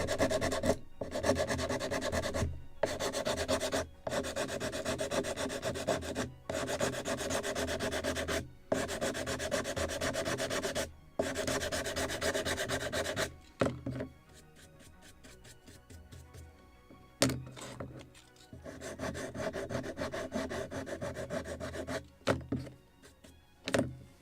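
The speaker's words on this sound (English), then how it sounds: "Right now I even sanded more this balsa block" Sandpaper rubbing back and forth over a balsa wood block on a model lobster smack boat kit, a steady run of close, scratchy strokes broken by brief pauses, fainter and patchier midway before picking back up.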